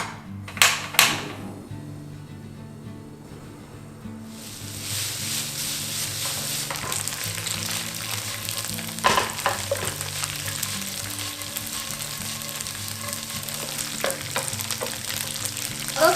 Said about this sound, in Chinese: 先把我们的油豆腐跟冻豆腐把它煸到金黄色